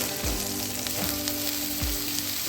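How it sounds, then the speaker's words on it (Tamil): Cut onions frying in a pan for idiyappam semiya, a dense steady sizzle with a few low knocks of stirring, close and constant, no talking. "நம்ம கட் பண்ணி வச்சுருக்கிற ஆனியன் ஆட் பண்ணிக்கிறோம். ஸோ ஆனியனை கொஞ்சம் பொன்னிறமாக"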